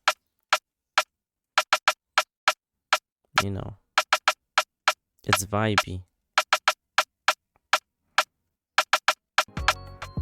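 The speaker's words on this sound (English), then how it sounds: "So on the hook, that's when this snare plays" An afrobeat snare drum sample plays from an FL Studio beat in sharp, evenly spaced crisp hits that repeat in a quick pattern, with someone talking briefly between bursts.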